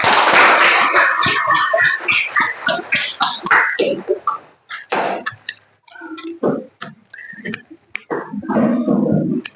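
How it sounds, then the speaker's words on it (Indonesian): Pupils in a classroom clap their hands in a dense, loud burst that breaks into scattered, irregular claps and thumps, then swells again near the end. "Oke, tepuk tangan."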